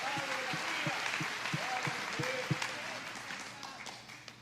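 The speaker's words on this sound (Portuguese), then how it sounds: "É para aplaudir sim, irmão." A church congregation applauds in a steady wash of clapping, with a preacher's voice sounding over it.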